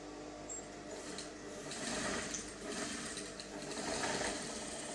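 Sewing machine running steadily while stitching horsehair crinoline onto the hem of a 720 peplum flare without lining, a continuous motor whir with slight swells in speed, fairly close and alone.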